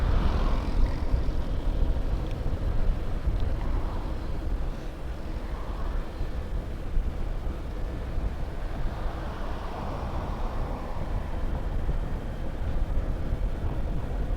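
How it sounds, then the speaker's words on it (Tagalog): Low-flying airplanes near Clark make a continuous rumbling roar over steady outdoor noise, with the drone swelling and fading slightly but never stopping. "Ayan yung mga aeroplano oh."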